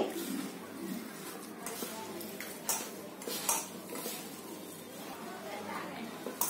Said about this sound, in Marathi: आता हे सगळं आहे ना पहिलं मी हाताने मिक्स करून घेते.